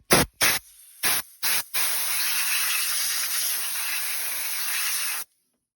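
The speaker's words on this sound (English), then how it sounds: "I'm just going to blow that off with the air compressor really quick" Compressed air blasts dirt and grime off the valve cover of a 2005 Toyota RAV4: several short loud hissing bursts, then one long steady spray of air lasting a few seconds.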